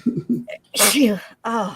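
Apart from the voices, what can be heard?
sneeze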